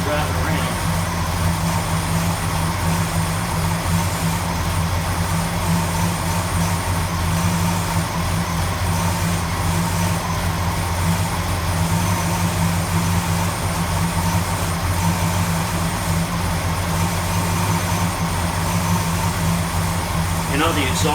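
A 1970 Ford LTD engine idles with a steady, low rumble continuously at an even pitch, with no changes in revving throughout.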